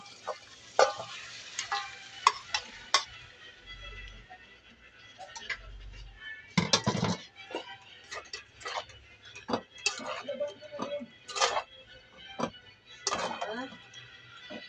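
Pork pieces drop into a hot pan and fry with a crackling sizzle, interrupted by irregular clinks and spoon scrapes, while people talk quietly nearby.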